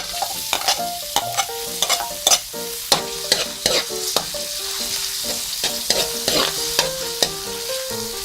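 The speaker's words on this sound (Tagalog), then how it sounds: "Pag mainit na po yung mantika natin, isunod na po nating igisa yung ating bawang." Garlic sautés in hot oil for Filipino bopis. A loud, close sizzle runs underneath as a spatula scrapes and clanks against the pan in quick, repeated strokes.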